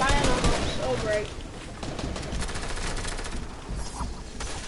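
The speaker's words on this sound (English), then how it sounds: "I'm getting like beamed by someone firing on us" Enemy gunfire in a video game, rapid bursts of shots rattling loudly at the start and then continuing in quieter bursts under the game's other noise.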